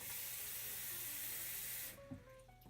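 Water pouring steadily into a pot of rice grains for an Instant Pot, a loud continuous hissing splash that cuts off near the end, followed by faint clinks.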